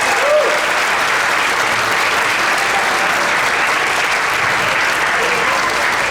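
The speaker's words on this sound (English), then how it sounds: "Let's give them a round of applause, please." Loud, sustained applause from a school audience at a sixth grade winter concert for the first year beginning band, a thick unbroken roar of clapping at full strength from start to finish, with a faint voice briefly near the start.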